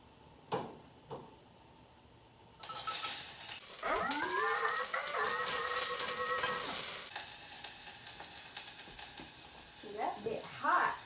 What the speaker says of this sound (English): heat 1 teaspoon. We're gonna add in the onion